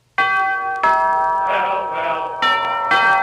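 Bell chimes from a Pell-Mell cigarette radio commercial ring out in bright tonal strikes, one after another with sustained ringing tails, loud and clear over a quiet background.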